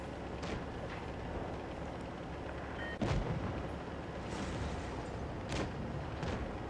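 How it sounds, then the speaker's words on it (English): A tank cannon fires in the World of Tanks Blitz mobile game, a sharp loud boom standing out over a steady roar of in-game engine and battle noise, with two lighter crack-like shots later in the battle. "What a beautiful shot there, into the Sheridan."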